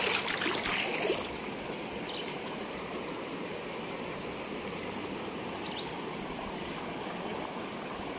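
Water in a cold, clear stream flows around a person wading waist-deep, a steady close rushing hiss throughout, with a louder splashing burst in the first second.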